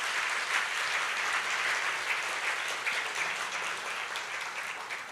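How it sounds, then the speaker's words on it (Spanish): A church audience claps together in a full, even burst of applause that holds at a steady loudness for several seconds, many hands blending into a continuous wash with no talking. "No me van a dejar a Daniel aplaudiendo solo"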